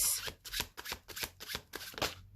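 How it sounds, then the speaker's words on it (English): A deck of tarot cards is shuffled by hand, giving a close series of riffling, flapping bursts in a steady rhythm for a couple of seconds. "I will be pulling from the tarot deck."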